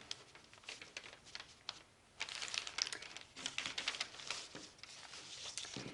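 Fabric being folded in half for a bind-and-bleach art project, giving faint, soft rustles and crinkles that grow more active partway through.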